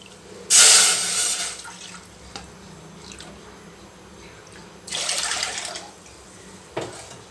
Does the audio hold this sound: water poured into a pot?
yes